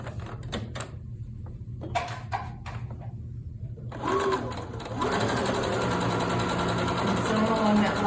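A sewing machine stitches a T-shirt quilt fabric: a few short taps and pauses, then a steady fast whirring run of stitching, close and clear, with a voice speaking over part of it.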